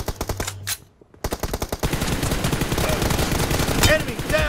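Rapid automatic gunfire from PUBG Mobile in a team deathmatch room: quick bursts of sharp shots, a brief gap, then a continuous loud stream of fire with reload clatter, with a voice faintly underneath.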